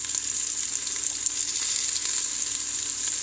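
Lotus stems frying in an Instant Pot for a Kashmiri vegetarian dish: a steady, close, hissing sizzle continuing evenly without pause.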